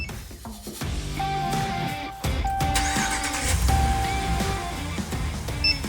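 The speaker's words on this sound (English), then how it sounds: "to remote start your vehicle, hold down the button for about 3 seconds" A car engine remote-started with a Compustar PRO R5 system turns over and settles into a steady idle nearby, with a few short electronic beeps and tones sounding over it.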